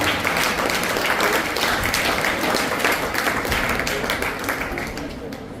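Applause from an audience at a school farewell and results ceremony: dense, steady clapping fills the whole stretch, loud and close, easing slightly toward the end.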